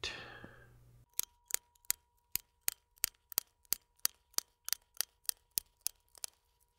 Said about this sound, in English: now we'll just snap the old keycaps